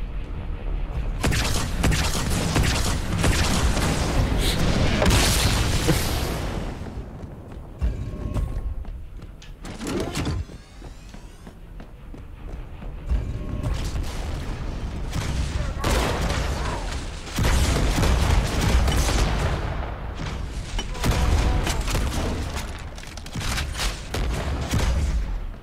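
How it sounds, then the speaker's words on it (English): Loud, dense bursts of gunfire and booming explosions roll almost nonstop as a tank is destroyed in Halo 2. One short lull breaks the barrage partway through. "I'm about to destroy that tank"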